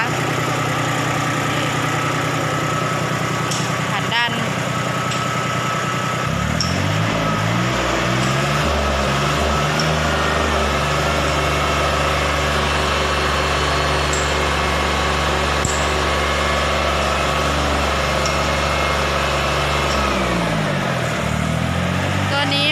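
A Yanmar 16 hp ride-on tractor engine idles steadily and loudly up close with a constant low drone, and its note shifts slightly as the engine settles around six seconds in and again near the end.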